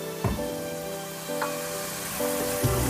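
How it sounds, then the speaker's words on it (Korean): Lotus root frying in a little cooking oil in a wok, a soft steady sizzle with a few light clinks and scrapes of stirring, close and unvoiced. "먼저 불을 켜고 연근을 넣어주고 식용유를 조금 넣어줍니다"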